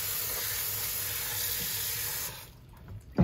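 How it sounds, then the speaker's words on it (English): Peppers and herbs are rinsed under a running kitchen tap, a steady broadband rush of water that cuts off near the end, followed by a brief clunk. "I'm washing them because these things carry a lot of sand between."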